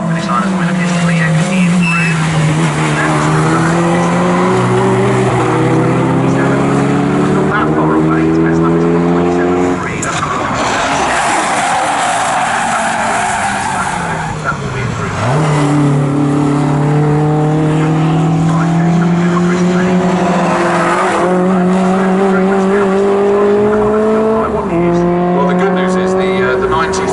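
Renault Clio race cars howl around Snetterton during a trackday qualifying session, loud engine notes rising and dropping through repeated gear changes as cars pass, with a commentator talking over the racket.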